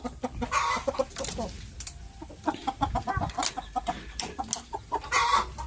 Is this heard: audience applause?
no